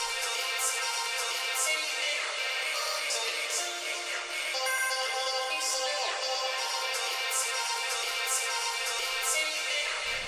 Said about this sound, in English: The most notable thing is this kind of vocal chop time shaper thing we had built